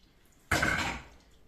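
Water draining from homemade quark hung in a strainer from a shelf screw, a sudden wet burst of splashing and dripping that starts abruptly and tapers off over about a second.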